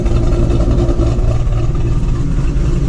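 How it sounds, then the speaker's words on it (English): A cammed 2006 Ford Mustang GT with Pypes longtube headers idles warmed up, a loud, close, deep lumpy rumble with an uneven choppy rhythm running steadily and alone. "there it is, warmed up, chopping like a classic muscle car."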